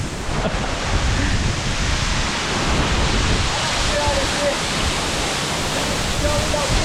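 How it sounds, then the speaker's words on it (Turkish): Haraz waterfall in the Amanos mountains' İncebel canyon, a drop of about 25 to 30 metres, roars as a dense, unbroken wash of falling water close at hand. "İsmi Haras Şelalesi'ymiş."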